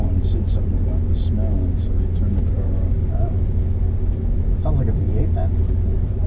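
A V8 car engine idles with a steady low rumble close by, running continuously under scattered voices and background chatter.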